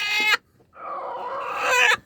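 A nearby black Naked Neck hen gives a short call, then after a brief pause lets out a longer drawn-out squawking cluck.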